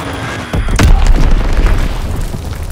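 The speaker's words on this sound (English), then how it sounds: "Enemy bomb incoming, get to cover!" An enemy bomb strike in the video game Call of Duty detonates nearby as a single deep, heavy boom, followed by a low rumbling tail that lingers for a couple of seconds.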